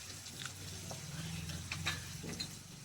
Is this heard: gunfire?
no